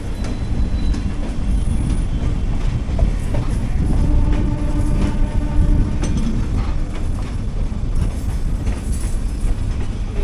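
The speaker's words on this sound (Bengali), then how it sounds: "এটা হাওড়া যোধপুর এক্সপ্রেস। তো এখনই হাওড়ায় ঢুকবে।" The Howrah Jodhpur Express pulls into Howrah station, a loud, continuous rumble of rolling wagons with rhythmic wheel clatter and faint squeals of wheels on the rails, with no voices.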